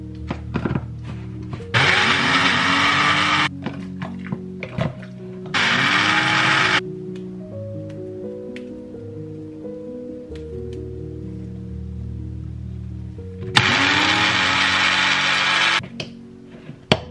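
A kitchen blender runs in three separate bursts as it blends chickpeas a little at a time. The bursts are loud, close and whirring, with quieter handling sounds and pauses between them.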